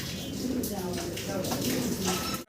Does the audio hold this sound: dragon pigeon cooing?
yes